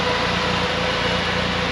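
1990 Ford Fiesta RS Turbo engine running on full turbo with a standard airbox, a loud steady drone with a constant hum and no breaks.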